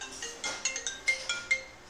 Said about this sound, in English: Figures that my phone would ring